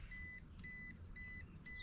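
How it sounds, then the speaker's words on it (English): Kayak shallow-water alarm giving four evenly spaced steady electronic beeps, fairly faint, over low water and wind noise while coasting into shallows on a bass-fishing outing. "That sound is my shallow water alarm telling me I'm in less than 2 feet of water"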